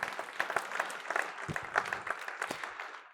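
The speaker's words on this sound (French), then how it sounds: "que ceux qui le croient applaudissent le Dieu qui réalise des projets" Congregation applauding at a church sermon, a lively patter of many hands clapping in uneven bursts, moderately loud and close, with no voices over it.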